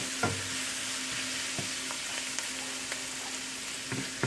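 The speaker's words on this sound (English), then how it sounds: "Now that our onions are cooked down a little bit, I'm going to put in the shrimp." Shrimp dropped into a pan of browning onions for Nigerian fried rice, a steady close sizzle of frying with a few stirring clatters and scrapes, no talking.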